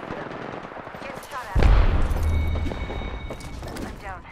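Gunfire in the video game Apex Legends, a heavy burst of shots and a booming impact in the middle, with game sounds and chatter around it.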